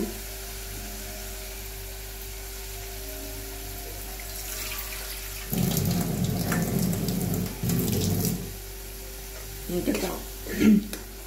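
Masala for a pabda fish curry sautéed in a pan, a low sizzle followed by bursts of louder scraping and frying around the middle and a few brief stirs near the end, close by, with faint background noise.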